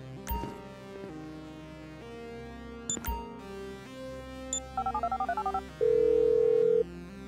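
A phone being dialed in the video game GTA V, with a few sharp clicks followed by a quick run of key-press tones and then one long, steady tone, over a faint background hum.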